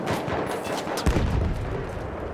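Battlefield 1 gunfire crackles in a rapid burst of shots over busy battlefield noise, with a heavier report punching through midway and the firing continuing after.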